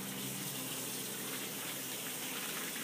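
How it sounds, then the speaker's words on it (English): Tap water running steadily to rinse plastic packaging from baby back ribs at a sink, a loud, continuous close gushing hiss throughout with no pauses or talking. "we're going to rinse our plastic, because if you don't, it gets awful nasty in your trash can"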